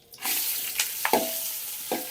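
Carrots and onions fry in a hot pan, giving a steady broadband sizzle with a few clinks of stirring on top. There is no talk.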